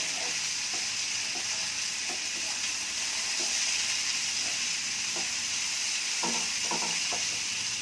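Saagu stirred in a pan over the heat, a spoon scraping and knocking in irregular strokes against a continuous close sizzle and hiss of cooking, with no talking.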